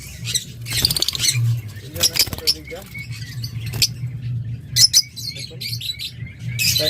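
Fischer's lovebirds kept as pets chirp and squawk in sharp, repeated bursts close by, while someone talks steadily underneath in a low voice.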